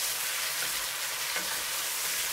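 Chicken stir-fried in a hot pan with light soy sauce makes a dense, continuous loud sizzle and hiss, close and unbroken, with faint stirring movement beneath.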